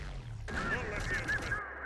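Turret gunfire in the Terminator Dark Fate Defiance video game, a loud sustained burst of rapid shots and blasts starting about a quarter of the way in and cutting off near the end.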